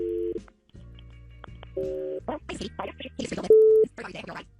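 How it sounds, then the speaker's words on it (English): A telephone call to Katie is dialed: short paired keypad tones, then steady phone signal tones, with voices talking over and between them. "We'll make the phone call to Katie."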